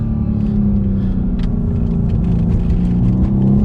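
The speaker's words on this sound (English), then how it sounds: "I'm going to floor it in second." A 530 wheel-horsepower Mercedes-AMG C63S coupe accelerates at full throttle in second gear, a loud, steady, deep engine roar heard from inside the car with no talking.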